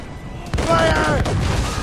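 Cannon and mortar fire from ships in a naval battle in Assassin's Creed Rogue: a sudden loud boom with rumbling, crackling volleys that keep sustained, with voices shouting over the gunfire.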